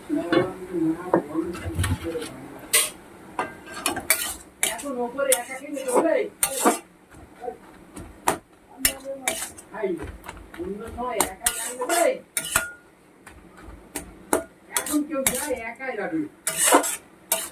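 A lid set onto a cooking pot of poppy-seed dish being boiled, amid repeated metallic clanks and utensil clinks against the pot, with a voice talking over the clatter.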